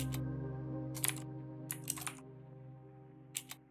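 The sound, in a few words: typing on keyboard with Mechvibes mechanical keyboard sounds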